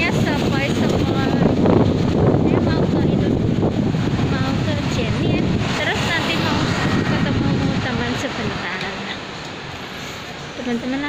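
Gentle morning breeze buffeting the microphone outdoors, a steady broadband rumble with rustling that stays fairly loud throughout and eases slightly near the end, with faint talk underneath.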